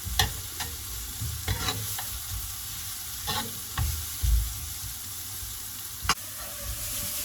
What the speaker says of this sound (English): the chopped shallots and leek. Okay, start sizzling, so we're gonna stir them